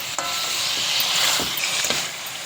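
Masala is stirred into chicken pieces for pepper chicken in a hot pan, giving a steady loud sizzle with a few scraping strokes of a spoon through the pieces.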